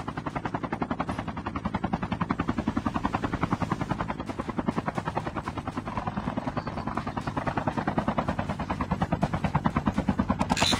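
A video-game helicopter thunders close by with a fast, loud, steady rotor chop throughout, with gunfire-like bursts mixed into the din.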